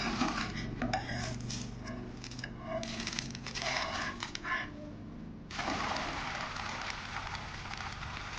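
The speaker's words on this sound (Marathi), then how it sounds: "आता आपण ह्याला पलटी करूया" Sponge dosa being flipped on a hot pan, with steady sizzling and scraping metal clatter of a spatula close up, then a louder burst of sizzle as the batter side lands.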